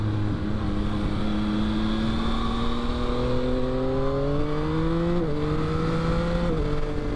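A 2022 Yamaha XSR900 motorcycle cruises at highway speed, its engine droning steadily with smooth pitch shifts as the rider adjusts the throttle, wrapped in constant loud wind rush with no voices.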